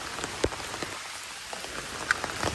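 Rain falls steadily at a cafe, a constant hiss punctuated by scattered louder drops and splashes close by, with no talking.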